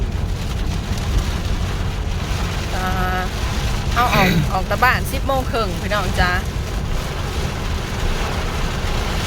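Steady heavy rain and gusting wind roar throughout a storm with thunder while someone talks over it.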